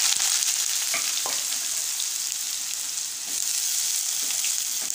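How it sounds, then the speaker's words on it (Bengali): Pumpkin pieces are lowered into hot oil for a curry, and a loud, dense frying sizzle runs the whole time with a few light clicks as the pieces go in. "আমি আস্তে আস্তে কুমড়োগুলো ছেড়ে দিচ্ছি।"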